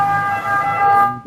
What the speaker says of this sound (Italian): un'ambulanza